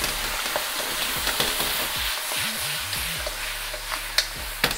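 Sweet and sour pork ribs in a pan with black vinegar sizzle steadily while being stirred, with scraping utensil knocks and a few sharper clinks near the end, no talking.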